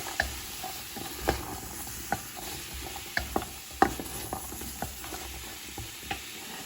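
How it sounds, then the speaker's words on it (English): Onions cook in a pan for a plant-based chili, giving off a soft, steady sizzle broken by irregular scrapes and clicks as a utensil stirs them. The sound is close and fairly quiet. "you can hear now that the onions are starting to sizzle"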